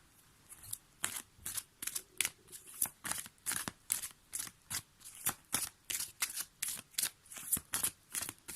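A deck of tarot and oracle cards shuffled close up during a daily card reading: about twenty crisp, evenly spaced riffling bursts in a steady rhythm, each a short papery flutter, with no voices.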